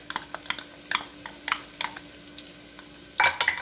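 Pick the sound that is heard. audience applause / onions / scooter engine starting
onions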